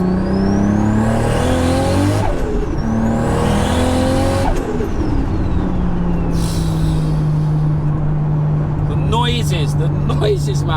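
A 1000 HP Toyota Supra engine revving and accelerating hard, loud and close, with rising and falling engine pitch, sharp shifts and a high whine throughout.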